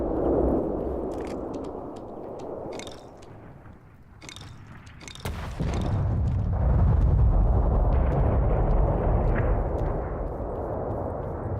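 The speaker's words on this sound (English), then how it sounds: "80 millimeter cannon." Heavy 80 millimeter cannon fire in an extraction shooter video game, with booming blasts and sharp bursts over a steady rumbling background. Impacts cluster around the middle and a louder low roar carries on afterward.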